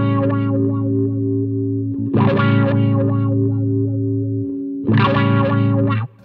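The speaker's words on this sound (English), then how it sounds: "If I turn it down, it sounds like it goes up to the higher frequencies in the wah" Guitar played through an AKAI VariWah wah pedal, with sustained distorted chords and bright swelling wah sweeps returning about every three seconds, loud and close, with no talking.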